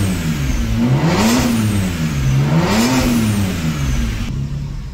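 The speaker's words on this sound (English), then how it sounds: "let's give it a couple of revs" A modified BMW 1M engine revs up and down twice in smooth, rising and falling sweeps, loud and close, settling back toward idle at the end.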